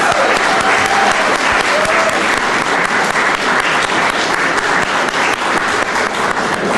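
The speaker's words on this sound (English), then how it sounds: "can we have a round of applause for all of our recipients of the York Art Award" A round of steady, full applause from an audience honors York Art Award recipients at a city's State of the City event. It fills the whole stretch at a close, even level without breaking off.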